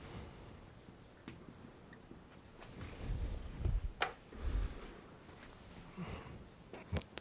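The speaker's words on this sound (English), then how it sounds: "let me write an example here" Faint scratching of writing out a math example on algebraic identities, soft intermittent strokes with a few light taps and knocks, close but quiet against a hissy room background, no talking.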